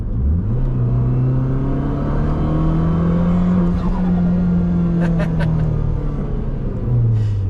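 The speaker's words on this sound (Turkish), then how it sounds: "Zaten üst devirlerde turbonun etkisiyle gayet güzel uzuyor hatta bir deneyelim şurada" A Fiat 500 Abarth with a 1400 cc turbo engine accelerates hard on the Baku Formula 1 street circuit, its loud, close engine drone rising steadily in pitch through the revs, then easing off briefly before climbing again.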